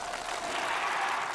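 Applause from a crowd praising a commando force's stunt demonstration, a steady dense wash of clapping that stays even and fairly loud throughout.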